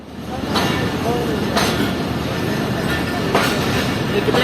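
The Karachi Express rolls into Lahore Junction railway station, a steady loud rumble of railcars with periodic clacks of wheels over rail joints, recorded from inside the moving train.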